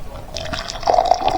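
Hot water is poured into a cup to make coffee, a short, close trickle and splash whose pitch rises as the cup fills.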